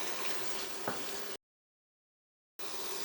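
Onions sizzle steadily in sesame oil in a pan, a soft, even frying hiss broken by a brief silent gap before resuming.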